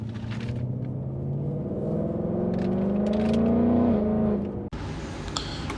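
A supercharged 2020 Ford Mustang GT 5.0 V8 rumbles under acceleration, its pitch climbing steadily with a deep aggressive growl, then cuts off abruptly as the throttle closes and the note drops away.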